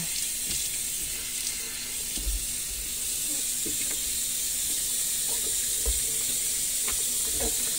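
Fruit is washed under a running tap of hot water in a sink, making a steady, close splashing rush with small irregular knocks and drips throughout.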